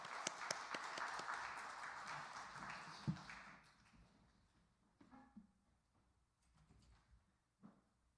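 A church congregation gives faint, steady applause in encouragement of the women's association during a service. The clapping fades out after a few seconds, leaving a few scattered taps.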